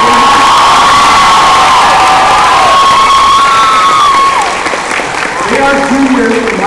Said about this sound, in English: Can we give like a big round of applause to the Korean girls here that were playing with the Korean standing drums?